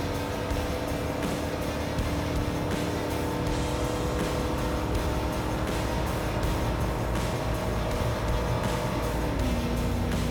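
41-inch Super Swamper tires balanced with beads drone in a loud, steady hum at about 75 mph, with constant road and engine noise inside the vehicle throughout.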